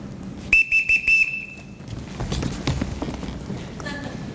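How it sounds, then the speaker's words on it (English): A shrill whistle blown to summon people in a staged Sound of Music performance, several short sharp blasts and then one longer held note, followed by shuffling footsteps and movement across the stage. "Everyone can answer to a whistle."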